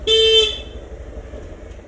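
A vehicle horn gives one short, loud honk close by, then cuts off, leaving a low rumble of road noise.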